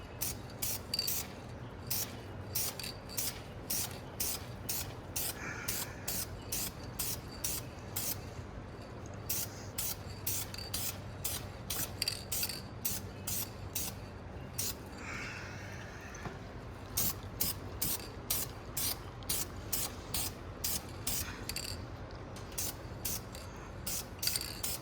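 Clear coat is sprayed onto a rust-repaired Dodge Durango quarter panel, heard as a steady series of short, faint, evenly spaced hissing bursts that continue through the whole stretch.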